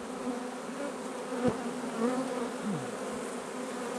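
Honey bees buzz steadily around hive frames, a continuous faint drone with a few closer insects passing by.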